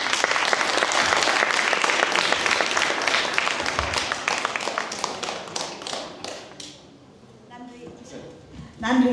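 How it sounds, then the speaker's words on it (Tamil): A concert audience at a Tamil cover-song event in Dortmund, Germany, gives loud, dense applause. The clapping holds steady for several seconds, then thins out and fades to a few scattered claps. "உங்களுடைய பலத்த கரகோஷம்"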